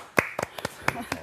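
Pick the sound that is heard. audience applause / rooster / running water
audience applause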